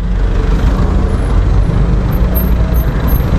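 Heavy dump trucks rolling along a busy northern-coast highway near Bandung, a loud, continuous low rumble of engines and tyres with a faint air-brake hiss, no voices over it.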